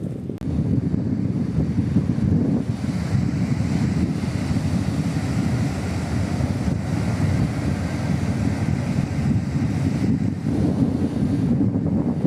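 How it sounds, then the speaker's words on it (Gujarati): Continuous rushing surf of ocean waves washing on a beach, heavy with wind buffeting the microphone, loud and unbroken. "અહીંયા સરસ મજાનો બીચ છે"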